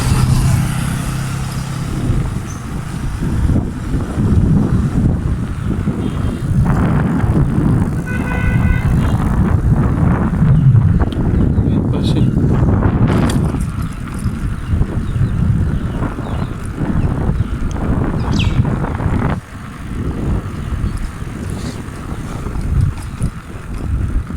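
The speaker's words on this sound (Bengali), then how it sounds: "প্রচণ্ড বাতাস তো এই কারণে হয়তো বা সাউন্ড একটু ডিস্টার্ব হতে পারে" Heavy wind buffets the microphone in a constant low roar, with no voices.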